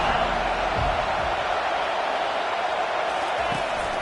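A football stadium crowd roars in a steady, dense wash of noise during a college game, with faint cheers and whoops rising through it and a commentator talking over the top.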